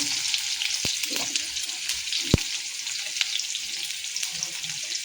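Steady, loud sizzling of oil frying a tempering for lentils in a pan, with a few sharp clinks of a utensil against the pot.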